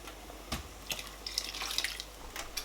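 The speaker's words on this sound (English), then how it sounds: "I'm going to add more water in the pot." Water poured into a cooking pot while making Nigerian ogbono and okra soup, heard as faint, intermittent splashes and drips with no voices.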